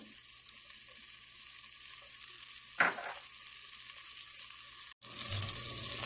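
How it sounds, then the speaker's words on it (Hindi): Chopped garlic hits hot oil in a pan with a sudden sizzle, then keeps frying with a soft, steady crackle and a brief stir clatter, quiet and close. "ये जस्ट गार्लिक को ब्राउन कर लेंगे"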